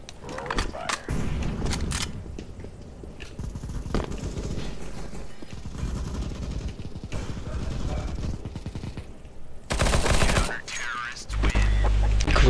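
Rolling gunfire in a shooter video game, with steady rapid bursts of automatic fire running throughout, a sharp louder volley near the end, and voices talking over the shooting.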